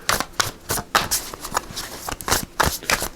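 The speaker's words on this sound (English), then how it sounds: "So let's just shuffle these up here." A deck of tarot cards is shuffled by hand close by, with a run of soft, irregular riffling and slapping bursts.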